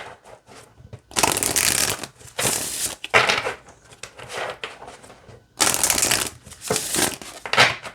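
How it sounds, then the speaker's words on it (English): Oracle cards being shuffled in several riffling bursts, crisp papery rustles close by with short quiet gaps between. "let's give it a shuffle"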